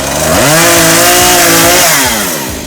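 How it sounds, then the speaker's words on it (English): A chainsaw cuts wood while clearing a cottage homestead, its engine loud and close, revving up into a steady high whine and then easing off over a few seconds. "grab the chainsaw and get after it the old-fashioned way"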